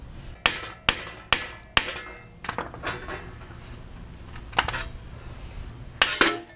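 Hammer tapping on the wheel hub of a 2014 Honda Pilot, about a dozen sharp metallic strikes in irregular clusters, close and loud, with brief quiet gaps between.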